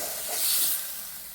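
Chili and spices frying in a pan, a steady sizzling hiss that swells briefly and then settles, close and alone.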